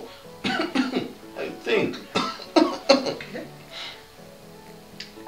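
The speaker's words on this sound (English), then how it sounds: "I do have a cough" Several harsh coughs in quick succession, close to the microphone, followed by a brief spoken remark.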